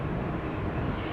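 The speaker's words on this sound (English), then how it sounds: "Emirates 777? Sure looks like it. Passing overhead." An Emirates Boeing 777 airliner passes overhead near Amsterdam Schiphol Airport as a steady, broad roar of jet engines that holds at a moderate level throughout.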